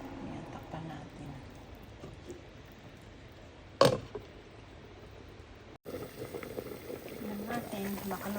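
Soup with Chinese bok choy simmering in a covered pot, giving a faint steady bubbling hiss with a sharp clink of the lid partway through, then louder boiling; someone talks quietly over it.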